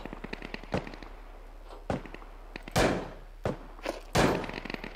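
Gunfire and bullet impacts in the online survival shooter Deadside: several sharp cracking shots and bursts, some close and loud, scattered irregularly over a few seconds with no talking.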